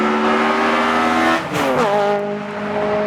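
A 2007 Honda Civic Si FA5 sedan with a naturally aspirated, high-revving engine that reaches 9,000 RPM, revving loud and close as a rising, tonal engine whine climbs, dips in a quick shift, then holds high again.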